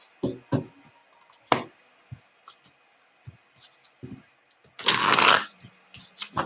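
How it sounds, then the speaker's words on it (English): Tarot cards shuffled by hand: scattered soft taps and slaps, then a dense, loud riffling burst, with quieter card handling after it. "I have to shuffle in funny ways because I have small hands."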